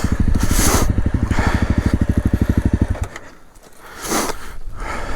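Honda CRF250L motorcycle climbing uphill, its engine revving hard with a loud, rapid pulsing drone that drops away briefly before picking up again, close to the mic.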